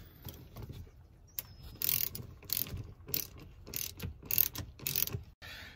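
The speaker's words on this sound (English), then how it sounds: "we'll pop the plastic piece off of here and remove that bolt as well" A hand ratchet clicks in quick, repeated bursts as a seat bolt comes out of a 2002 Toyota Tundra, loud and close with brief pauses between pulls.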